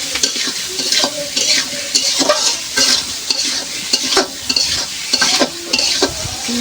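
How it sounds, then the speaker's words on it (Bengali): Drumsticks and potatoes fry in ghee while a spoon stirs them, steady sizzling punctuated by repeated scraping strokes against the pan, close and clear with no talk. "ঘিয়ের সাথে একটু নাড়াচাড়া করে নেব"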